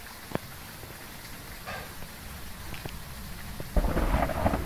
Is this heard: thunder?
yes